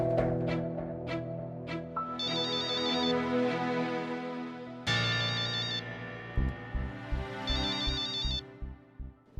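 A mobile phone plays a bright melodic ringtone indoors in a domestic drama scene. The tune repeats, then shifts to a pulsing, beeping rhythm, loud and alone without speech.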